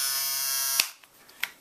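A Braun M 90 battery-powered mobile electric shaver runs with a steady, bright buzzing whine for most of a second, then cuts off abruptly, followed by a few faint clicks from handling.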